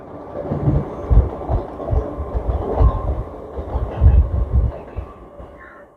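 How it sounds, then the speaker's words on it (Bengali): A local train passing on the main line near Dum Dum, heard as a steady low rumble with rhythmic clickety-clack wheel beats, moderately close and without talk. "মেন লাইনে দেখুন লোকাল ট্রেনটা যাচ্ছে"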